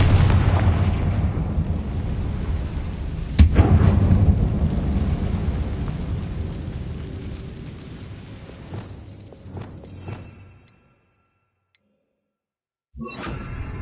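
A Confringo spell blast in the Hogwarts Legacy video game lands as a sharp boom, then a long rumbling roar that slowly fades out to silence, with a brief burst of sound returning at the very end.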